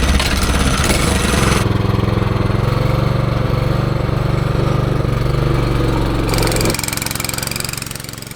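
A small engine on a homemade Corvette go kart runs loud and steady right after being cranked, a continuous close-up chugging drone that shifts in tone partway and tapers slightly at the end.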